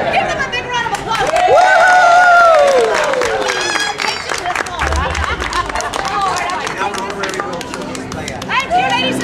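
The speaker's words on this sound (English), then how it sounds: "Give them a big round of applause." An outdoor crowd applauds and cheers after a street theatre performance at Disney, with loud, dense clapping mixed with crowd chatter and excited voices throughout.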